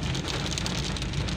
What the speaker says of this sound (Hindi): बारिश कुछ ज़्यादा ही तेज़ हो गई है